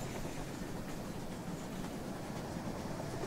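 A model train runs on a Great Northern Cascade Division layout, giving a steady rolling rumble with faint rhythmic clicking of wheels over track, continuous and moderately close, with no voices.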